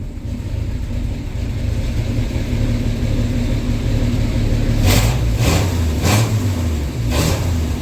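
A 1984 Ford F-250 engine fitted with a Comp Cam 268H idles with a steady, rough rumble, then gets four quick throttle blips that rise and fall in a loud, even rhythm.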